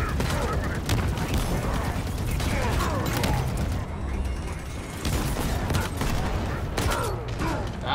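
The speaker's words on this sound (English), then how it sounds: "That shotgun kind of sounds a little off." Gunfire and mechanical clanks from the Halo Infinite campaign demo, with repeated sharp blasts and booms over busy game noise.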